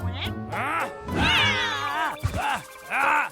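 Cartoon cat meowing in a Boonie Bears animated story, several drawn-out wavering meows in quick succession, loud and close, with a character's voice speaking around them.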